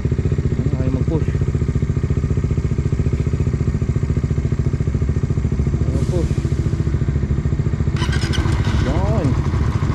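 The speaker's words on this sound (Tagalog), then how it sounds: "Pati pag i-start ng motor." A Bajaj Dominar 400 motorcycle engine, push-button started, runs at a steady, chugging idle throughout, with brief clattering bursts and some background voices.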